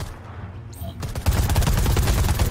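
Gunfire in the video game Predator: Hunting Grounds, a sustained burst of rapid automatic shots with heavy low thumps that ramps up after a quieter start.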